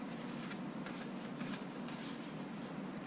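Tarot cards are shuffled by hand in a soft, steady run of papery riffling and sliding, close and fairly quiet, with no voice over it.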